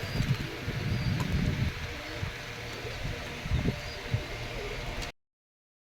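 Soft cooing of Giribaz pigeons and low bird sounds over a rustling outdoor background, fairly faint, with a few brief knocks before the sound cuts off.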